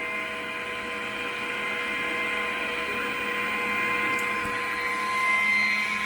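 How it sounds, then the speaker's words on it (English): A Glowforge CO2 laser cutter cuts out a box, its fans and exhaust hose venting fumes out a window. It gives a steady, close mechanical whir with a constant tonal hum that swells slightly near the end, with no talking. "You can see it cutting out the box now."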